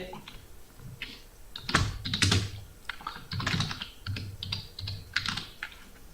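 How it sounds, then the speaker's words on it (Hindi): Typing on a computer keyboard while entering text in CorelDRAW, a steady run of close, crisp key clicks in uneven bursts with brief pauses. "सबसे पहले आप कोई भी टेक्स्ट लिखेंगे।"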